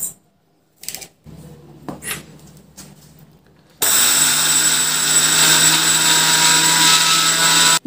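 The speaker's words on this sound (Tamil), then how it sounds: "அதில் நம்ம எவ்வளவு நல்லா நைஸாக அரைக்க முடியுமோ அவ்வளவு நைஸாக அரிசி அரைச்சி எடுத்துக்கலாங்க." Mixer grinder grinding rice into fine flour for adhirasam, starting abruptly after a few quiet knocks and handling sounds, then a loud, continuous high-pitched motor whine with a steady droning hum that runs to the end.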